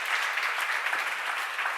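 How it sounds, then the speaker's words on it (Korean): A church congregation claps hard during a worship seminar, dense fast applause from many hands filling the room, steady and loud from start to finish with no talking. "박수 세게 쳐요."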